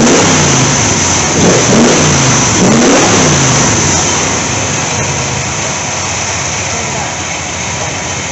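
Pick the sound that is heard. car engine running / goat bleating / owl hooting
car engine running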